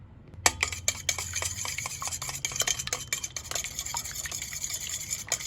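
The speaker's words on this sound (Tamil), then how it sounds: "இனி வந்து மிக்ஸ் பண்ணுவோம்." A utensil stirs brownie batter made with chocolate and beaten egg in a bowl, giving quick, rhythmic scraping and clinking strokes close by, with a faint wet slosh under them and no talk.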